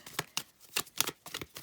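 Playing cards riffled and shuffled in a series of quick crisp bursts, each a short flurry of papery flutter, close and moderately loud with brief pauses between.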